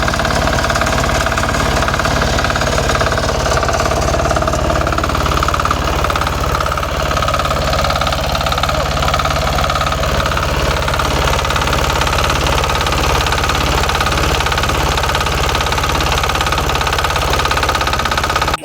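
A motorcycle engine runs continuously for the whole stretch, a close, loud, steady rumble with a knocking, vibrating texture and no voices.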